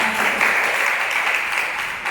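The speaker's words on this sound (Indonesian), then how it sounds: "Oke, sekali lagi tepuk tangan untuk Tuhan." Congregation applause at a church service, dense continuous clapping filling the whole stretch at an even level.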